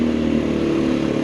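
An MGB ATX 125 adventure motorcycle engine drones steadily at close range, a short continuous mid-pitched rumble with a slight rev.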